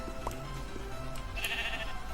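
A sheep bleating in the Minecraft video game, with short bleats heard faintly over steady background noise and no talk.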